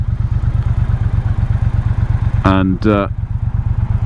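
Triumph Speedmaster motorcycle engine running steadily with a rhythmic low throb and slight shivering judder, a speaking voice cutting in briefly near the end.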